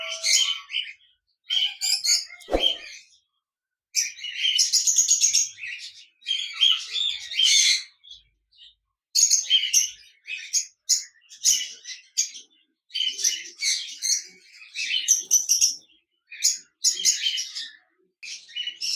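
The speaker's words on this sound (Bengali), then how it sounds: "এখানে দেখতে পাচ্ছেন এক জোড়া কোকাটেল পাখি রয়েছে, রানিং পেয়ার," Caged cockatiels, a breeding pair among others, chirp and squawk in rapid bursts, calls overlapping from several birds at close range, with a sharp knock partway through.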